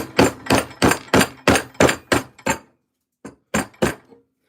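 A hammer strikes a chisel while a maple selfbow is carved, a run of about eight evenly spaced, sharp knocks roughly every third of a second, a short pause, then three more blows, close and loud.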